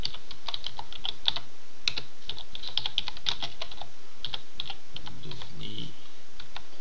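A map description being typed on a computer keyboard, steady rapid key clicks with brief gaps and a faint murmur of background sound, close and continuous.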